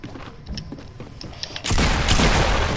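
A fast volley of gunfire in a building-and-shooting video game plays for a few seconds and then swells into a loud, dense burst of shots and impact noise, with no one talking.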